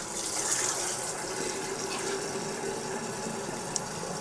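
Tap water runs steadily into a home brewing vessel, a constant rushing stream with no break and no speech.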